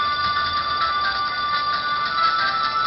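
A G.I. Joe phone ringtone plays steadily and fairly loud, a tinny, repeating electronic melody with no talk over it.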